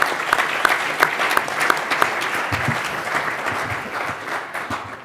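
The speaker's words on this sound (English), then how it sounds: "I'd like to thank all of our exhibitors. They help put this convention on, so I'd like to give them a round of applause." A convention audience applauds the exhibitors, with dense, steady clapping from a sizeable crowd that gradually tapers off.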